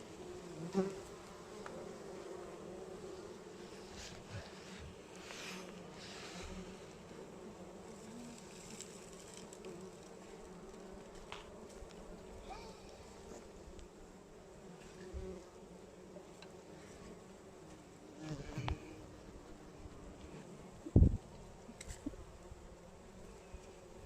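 Rescued bumblebee colony buzzing, a continuous low drone from many bees close by, with occasional louder wingbeats and faint handling noises, no talk.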